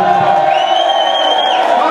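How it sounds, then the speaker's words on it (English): A loud crowd roars and cheers in a sustained wash of voices, with a high whoop rising above it for a moment. "Ken can we just have a round of applause for Martin Ormlott, the original man?"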